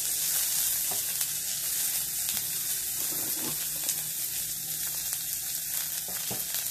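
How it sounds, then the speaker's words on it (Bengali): Panch phoron, cinnamon and cardamom sizzle steadily in hot oil, making a continuous close, crackling fry hiss with faint clinks of stirring throughout. "আমি ফোড়নে দিয়ে দিলাম, এটা ভাজা হলে আমি দিয়ে দেবো পেঁয়াজ কুচি"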